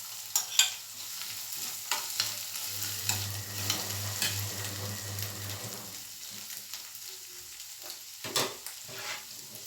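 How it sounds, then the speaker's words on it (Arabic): Duck and gizzards sizzle and fry in a pan, with a steady broad crackle and occasional louder stirring scrapes and clinks throughout, close up and with no talking. "بصوا حبايب قلبي دوت بقى هشوي البط اهو"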